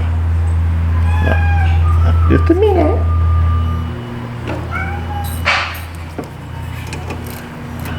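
A cat meows a few times, short rising and falling cries close by, while a person talks over a steady low mechanical hum.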